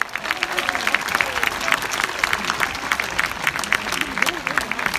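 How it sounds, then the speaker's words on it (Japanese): An outdoor crowd at a Red Bull Racing Formula 1 street demonstration in Tokyo gives dense, sustained applause. Many hands clap together with a steady roar, and voices mix in underneath. "会場のみんな最高の拍手を送ろう"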